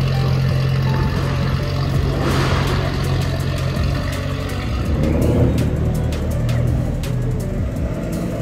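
Car engines at an indoor winter car meet with supercars and RS models, a continuous loud low rumble of idling and revving motors filling a large hall, with a couple of swells in intensity.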